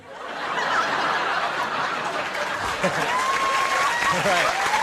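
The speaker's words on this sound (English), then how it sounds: "My mom loves those applause breaks" A comedy club crowd breaks into applause mixed with snickers and chuckles during a stand-up set, the clapping swelling quickly and holding steady while laughter rises and falls through it.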